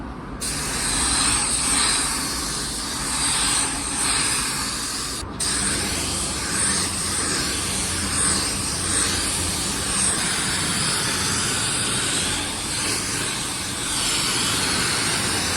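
A spray gun lays down unreduced Lumabase 3000 clear coat on a car at about 24–25 PSI with the fan and fluid wide open, giving a steady loud hiss with brief pauses between passes.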